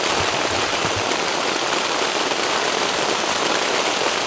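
Heavy rain pours steadily at a campsite in Montreat, North Carolina, a dense, loud, unbroken hiss of drops drumming on surfaces with no voices.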